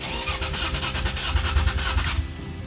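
A BMW E36 325i, fitted with a performance chip, cranks steadily without starting: the starter churns in a fast, even rhythm under a loud mechanical drone that drops off abruptly near the end.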